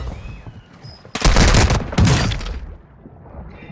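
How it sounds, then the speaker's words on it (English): Bursts of rapid gunfire in the shooter Warzone 2: two loud, close volleys of shots a fraction of a second apart, with quieter game ambience before and after. "They won't stop shooting me"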